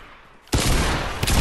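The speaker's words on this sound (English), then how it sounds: "Ow, he shot me." Gunfire in Fortnite Battle Royale during a beach assault mode: after a quiet moment a loud, sudden burst of rapid shots erupts up close and continues in a dense barrage.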